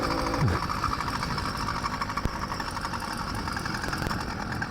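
A 100cc two-stroke motorized bike engine runs with the choke off, holding a steady, buzzing idle throughout outdoors on a warm day.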